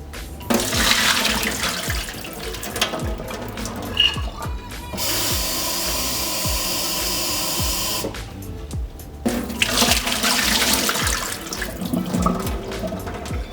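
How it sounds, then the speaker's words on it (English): Tap water runs and splashes into a jar of sprouting beans, then pours out as it drains, with a steady rushing stretch in the middle and gurgling, sloshing water on either side, close up and alone. "all we have to do today for day two is just drain and rinse them"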